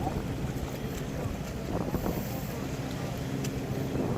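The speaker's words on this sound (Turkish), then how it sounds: "Rüzgar da var." Steady northwesterly wind rushes and buffets the microphone over churning sea water at an Anatolian-side fishing spot in Istanbul, a continuous broadband roar with no clear gaps.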